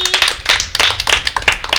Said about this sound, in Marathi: टाळ्या वाजवा त्यांच्यासाठी.